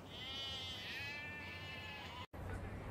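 A sheep bleats in a long, loud, wavering call that runs for about two seconds. It breaks off briefly and is followed by quieter background sound.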